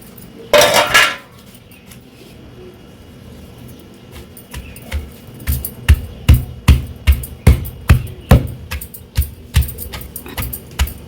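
Wood apple pieces pounded in a stone mortar for chutney, a run of about a dozen loud, regular thuds and clacks after an opening rattle, with no talk.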